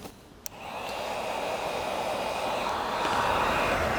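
A heat gun blows on vinyl wrap film over the grille of a 2021-2023 Chevrolet Trailblazer during a chrome delete, a close, steady rushing whoosh that rises after a quick click and holds at even loudness.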